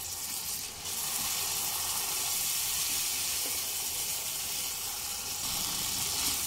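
Hot water hits frying ghugni spices in a pan, setting off a loud, steady sizzling hiss that carries on for several seconds, close and without talking.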